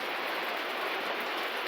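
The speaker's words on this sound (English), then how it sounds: "So you can hear that rain coming down." Steady hiss of rain pouring down on a 1979 Chevrolet G10 Sportvan, a dense, even wash of sound with no breaks and no voices.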